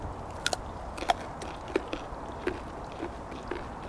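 A fresh raw carrot, just harvested from a backyard food forest, is bitten and chewed in a series of sharp, close crunches spaced about half a second apart, with no talking.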